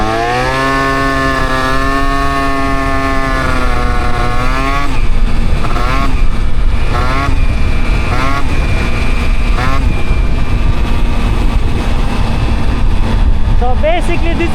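An Aprilia SR50 scooter fitted with a new 70cc kit being run in. Its high-pitched two-stroke engine holds a steady whine, then rises and falls through repeated revs and throttle lifts while riding, loud and close with wind noise.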